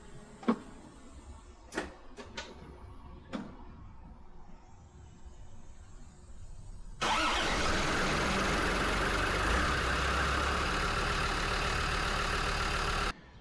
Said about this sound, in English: Now we just have to see if the motor starts.